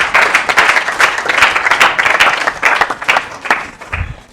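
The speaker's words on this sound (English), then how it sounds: "A round of applause one more time for Jamila." Applause from a pageant audience, with individual claps close by and distinct over a broader crowd clapping, rising and falling unevenly before tapering off near the end.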